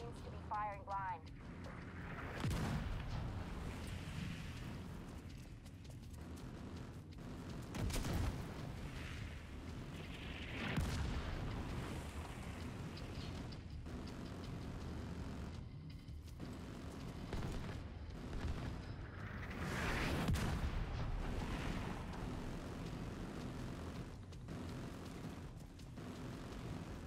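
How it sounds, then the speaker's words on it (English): Autocannon and mortar fire in a war video game sound as repeated booming blasts and rumbling impacts over a constant low roar, with a voice talking over much of the action. "The autocannon seems to be firing blind."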